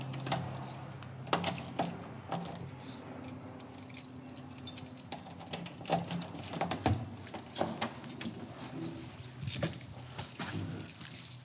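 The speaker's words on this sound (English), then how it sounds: "Let me see if I can get my keys." Keys jangling as someone fishes a key ring out near the social hall of a temple, giving irregular bright metallic clinks and rattles in bursts over a quiet room tone, with no talking.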